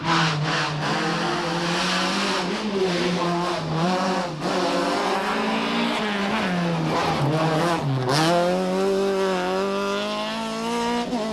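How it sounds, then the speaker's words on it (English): Rally car engines at the 1995 Ulster Rally roar close by, their pitch climbing and dropping in waves as they rev hard and shift gears, loud and continuous. "Listen to the engine notes and compare for yourselves."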